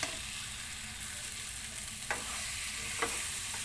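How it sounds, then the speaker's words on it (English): Three vegetables for a vegetable biryani frying in a pan, a steady soft sizzle with two brief scraping stirs of the spoon partway through, close and alone with no talking. "First, let's just cook these three vegetables because it should actually require time to cook."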